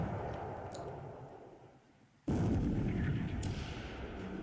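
A torpedo strikes a 4,000-ton light cruiser in the War in the Pacific naval strategy game, a sudden loud blast that cuts in after a quieter stretch and carries on as a sustained rumbling roar with crackling.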